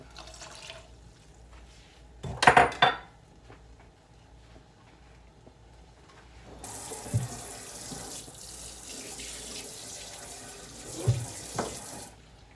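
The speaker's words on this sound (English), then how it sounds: "So I'm just going to add some water to the rice." Water runs steadily from a tap into a pot of rice for several seconds, with a few clattering knocks near the start and a brief clink later.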